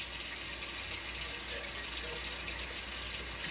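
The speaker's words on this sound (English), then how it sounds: "So I added this whole full cup of water to the pan." A full cup of water is poured into a frying pan, giving a steady, continuous rush of liquid at close range that holds evenly throughout, with no talk over it.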